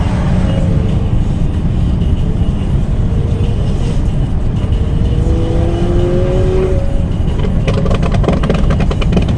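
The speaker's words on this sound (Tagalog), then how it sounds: "Anong kotse yun?" A car passes close by with a loud, continuous engine roar that stays strong throughout and swells in the middle as the vehicle goes past.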